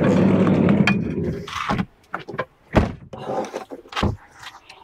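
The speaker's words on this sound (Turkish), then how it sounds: "Yan kapıyı kapat önce." Side door of a camper caravan is pulled shut at a Turkish vehicle inspection station, giving a loud, close thunk after a stretch of rumbling noise, followed by scattered knocks and rattles.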